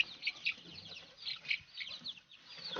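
Chicks cheep and peep in quick, high, irregular bursts, fairly faint, with no talking.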